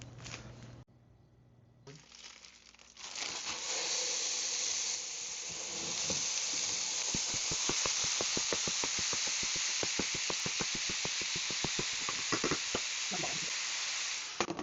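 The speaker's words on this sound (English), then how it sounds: "get this 5 pounds of hamburger frying up so I can make some taco meat" Five pounds of ground beef hamburger sizzling and crackling as it fries in a pan for taco meat, a loud steady hiss with dense popping that builds after a quiet start and continues without talk.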